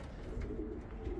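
A racing pigeon just back from a race at its loft gives low, soft coos. They are faint and murmuring over light outdoor background noise, and no one speaks.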